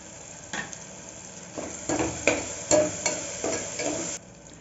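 Curry leaves crackle and sizzle in plenty of hot oil for a mutton gravy, with a series of sharp popping bursts and a few stirring scrapes over a soft background fizz.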